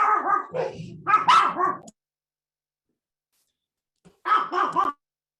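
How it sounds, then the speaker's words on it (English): Dogs bark in a quick burst of several close, loud barks. After a silent pause a shorter second burst follows. "dogs are barking"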